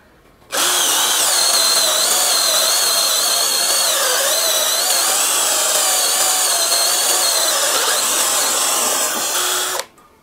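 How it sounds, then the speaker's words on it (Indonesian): A 12-volt cordless drill in drilling mode at top variable speed bores with an 18 mm spade bit: a loud, close, continuous whine that starts abruptly, holds for about nine seconds, then cuts off, with no talking. "mata bor 18 mili, bor kipas, mode drilling, variable speed yang paling kencang."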